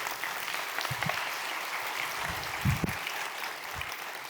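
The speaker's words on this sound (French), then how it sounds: "On peut applaudir les personnes pour accepter de répondre, parce que c'est pas évident." An audience applauds at a French-language developer conference talk, a soft, steady wash of clapping heard from a distance with a few louder claps near the middle.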